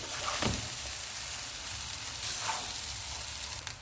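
Rice tossed with green onion fries in a pan, a soft, fairly quiet sizzle with a few stirring scrapes and clinks.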